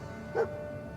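Dogmeat, the dog companion in Fallout 4, gives a single short bark or yip, mid-distance, over a steady low game ambience.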